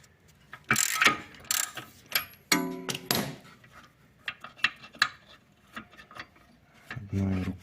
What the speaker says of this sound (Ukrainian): Все, тепер тримаємо цю гайку, відкручуємо, забираємо наші втулочки.